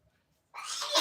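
A sudden sharp, breathy burst after a moment of near silence, loud and close, like a single sneeze.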